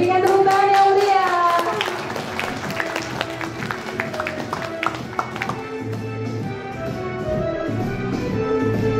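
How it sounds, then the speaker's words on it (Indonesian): Clapping from an audience at a school graduation event for young children, sharp individual claps that fade into a softer crowd murmur, with children's voices heard. "Berikan tepuk tangan yang meriah."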